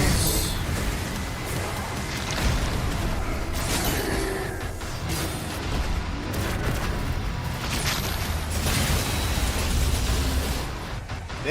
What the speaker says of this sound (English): Thank you, exploding barrels.